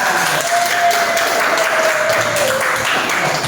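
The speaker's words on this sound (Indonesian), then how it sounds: "Berikan dulu aplaus kepada temannya" A classroom group claps for classmates who just finished presenting, a dense, continuous burst of applause filling the room for a few seconds at steady loudness, with a faint tonal hum running through it.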